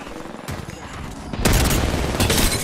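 Video game gunfire in Apex Legends crackles in bursts, a first volley midway then a heavier, louder barrage of rapid shots and booms near the end.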